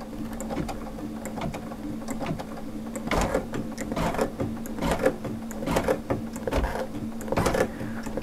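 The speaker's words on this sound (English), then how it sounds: "I hold down that start stop button when I start to stitch, it's going to stay stitching really slow." An embroidery machine stitches slowly while its start/stop button is held down, with a steady hum and irregular mechanical clicks and knocks repeating through the whole stretch at close range.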